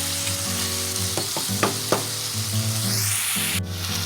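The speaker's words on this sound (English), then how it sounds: "We're going to go ahead and let our meat brown" Ground beef browning in a pan for baked ziti, a steady close sizzle with a few sharp spatula clicks and scrapes midway and a low hum underneath, no speech.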